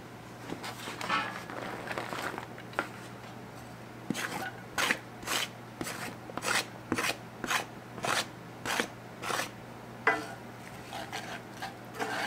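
Chopped onions go into melted butter in a pan for onion spoon bread, giving a soft sizzling wash followed by a steady run of rhythmic scraping strokes from stirring, close and moderately loud.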